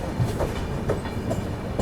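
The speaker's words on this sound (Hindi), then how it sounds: "अभी अपनी ट्रेन को यहाँ पर लूप पर लगा दिया है रायरू रेलवे स्टेशन पर।" Mahakoshal Express standing on a loop line at Raiyaru railway station, with a steady low rumble of rail cars and faint periodic clacks running through the whole stretch.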